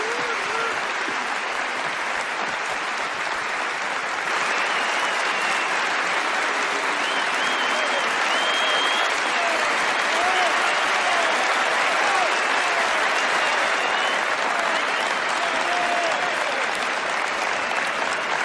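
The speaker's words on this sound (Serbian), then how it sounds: "Molim vas da dobrojim aplauzom pozdravite Koju i Zreju." A crowd at a party rally gives sustained, even applause for a long stretch, a dense continuous clapping with faint cheers or whistles mixed in.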